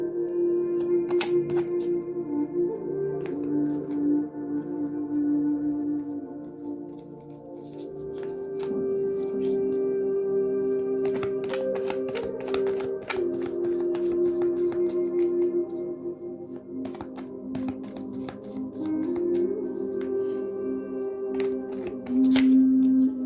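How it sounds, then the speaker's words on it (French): Playing cards shuffled and laid out for a French-language tarot-style card reading, soft repeated riffling and handling sounds beneath steady background music that plays throughout, with no talking. "je vais mettre mes petites cartes maintenant"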